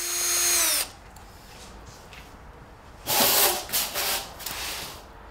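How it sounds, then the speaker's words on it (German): A power drill with a metal drill bit bores through a door frame during a patio door replacement: a short whining burst, a pause, then a longer grinding, hissing run that surges and eases. "Bohr mit einem Metallbohrer von einer Seite durch den Rahmen."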